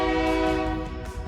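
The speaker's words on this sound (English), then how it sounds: "There comes a train." A passing train blares its horn near Alcove Springs along the Oregon Trail route, a loud sustained multi-tone blast lasting the whole moment, with faint rail rumble underneath.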